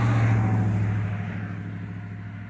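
A truck's engine idles and slows on a country road near an old cemetery, a close, loud low rumble with steady throbbing that gradually fades slightly as it settles.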